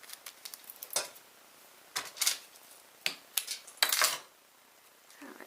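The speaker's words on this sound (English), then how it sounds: "I'm going to cut that one off just a little bit." Paper for a Z-fold box card is trimmed with a few short, crisp snips and rustles, spaced out in separate bursts with quiet gaps between, close and fairly soft.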